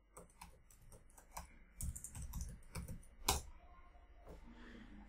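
Someone types a password on a computer keyboard with quiet, irregular keystrokes that run in clusters and pauses, close and fairly soft, with no talking.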